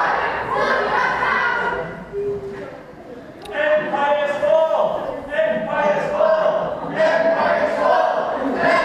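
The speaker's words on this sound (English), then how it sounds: "Crowd here trying to warn him." Wrestling crowd at a Friday Night Showdown event shouting and clamoring in a loud, sustained swell, with a brief dip before the noise surges back under a commentator's voice.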